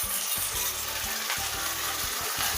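Chicken lollipops fry in a pan, with a constant hissing sizzle and soft rhythmic scrapes as they are stirred, heard briefly and close with no talking.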